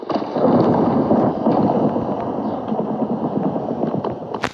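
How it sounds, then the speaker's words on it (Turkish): Steady rain and a rumbling thunderstorm in the Minecraft video game make a dense, loud wash of noise that fades slightly toward the end. "Şu yağmuru bir dindirek."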